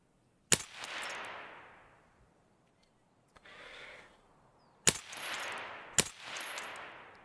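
Suppressed SVD marksman rifle shots from Escape From Tarkov: three sharp, loud reports, one near the start and two later about a second apart, each trailing into a long reverberant tail across open terrain, with a faint thud between.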